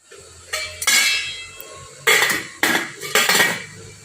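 A metal lid clanks onto a cooking pot of stuffed bitter gourds, made without onion or garlic, in a few loud, close metallic knocks and scrapes spread over four seconds with no talking.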